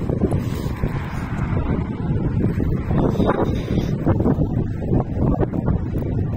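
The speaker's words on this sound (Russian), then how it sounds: "Да, ветер, ветер." Steady wind gusts buffet the microphone with a constant low rumble that rises and falls throughout, with no voices, on an autumn day in the town of Kudrovo.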